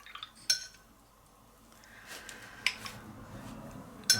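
A paintbrush is rinsed in a water jar during watercolor painting, tapping and clinking against the glass in a few sharp, close knocks with quiet swishing between them.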